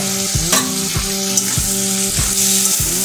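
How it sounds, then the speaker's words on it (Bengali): Hot water goes into kochur loti (taro stolons) frying in a pan, raising a loud, steady sizzle with rhythmic squeaky scrapes repeating roughly twice a second. "আমি এই লতিতে সামান্য পরিমাণের একটু গরম জল দিয়ে দিচ্ছি যাতে করে লতির একটা গ্রেভি ভাবটা থাকে"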